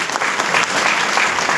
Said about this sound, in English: give a round of applause to yourself.